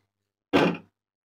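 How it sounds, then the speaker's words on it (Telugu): A single brief thunk with a short scrape sounds as the door of a heavy-duty stainless steel band sealing machine is opened, close and alone. "డోర్ ఓపెన్ చేసేయండి."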